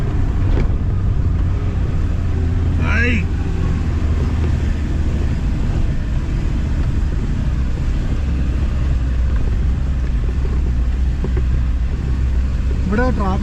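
A vehicle grinds up a very steep rural road toward an Attappadi village, its engine rumbling low and steady from start to finish, with faint chirps breaking through now and then.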